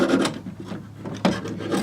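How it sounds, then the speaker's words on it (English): A hand file rasps across steel crampon teeth in short, close scraping strokes, about two clear passes in quick succession with no voices. "this is how to sharpen crampons"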